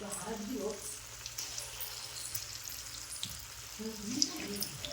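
Round bajji fritters dropped into hot oil, frying with a steady, soft sizzle and bubbling, while a person talks over it.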